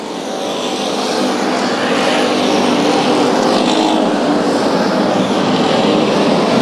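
Hobby stock race cars roar around Bakersfield Speedway, a dense, loud, continuous wall of engine noise as the pack passes, sustained without a break for several seconds.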